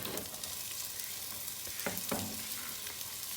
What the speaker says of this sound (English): We're gonna start by adding in some olive oil, and then we're gonna add in our chopped up onions.